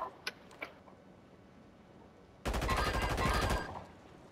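Call of Duty gunfire erupts as a rapid automatic burst for about a second after a couple of faint, distant pops and a quiet lull.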